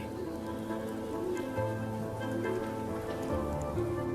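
Rain falls steadily on stone streets and water in Venice during an acqua alta high tide driven by Scirocco winds, a constant close patter of drops with no voices.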